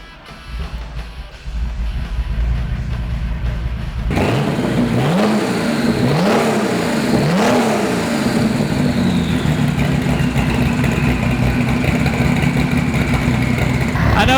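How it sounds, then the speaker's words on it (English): A 1988 RUF 911 Turbo cranks and fires up after a few seconds of quiet. Its exhaust blips through several sharp revs, then settles into a loud, steady rumble close by. "I'll go ahead and start it for you and you can hear what she sounds like."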